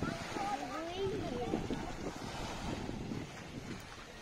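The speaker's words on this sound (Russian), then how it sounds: "Вот волны бьют, как у настоящего моря." Waves of the Dead Sea wash in with a steady rush and roll, mixed with wind buffeting the microphone, while voices talk faintly in the background.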